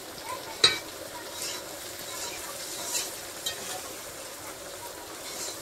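Vegetables fry in a pan as they are stirred, steady soft sizzling with a few scraping clinks from the utensil, moderately close, no talking.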